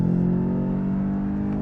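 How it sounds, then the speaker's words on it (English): A 2019 VW Jetta GLI engine is floored in sport mode, a loud, steady, close-up exhaust drone with a rising growl throughout the short burst of acceleration. "A lot of pipes and engine noise there."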